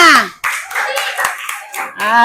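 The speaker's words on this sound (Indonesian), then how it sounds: "Tepuk tangan untuk kita semuanya" A short burst of clapping mixed with children's voices calling out together in a classroom, close and lively, fading briefly before the voices rise again.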